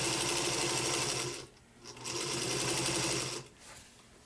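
A Singer Featherweight sewing machine stitches a quilt in a steady, loud mechanical whir with rapid rhythmic needle chatter, stopping briefly twice before restarting.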